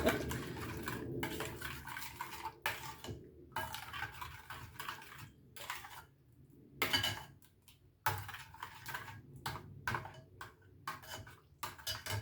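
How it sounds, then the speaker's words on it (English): Potato fritter batter of egg and grated potato being stirred with a spoon in a bowl, giving close, irregular scraping and clinking strokes with faint watery sounds and no talking. "Mix that through. I'm still using the same spoon."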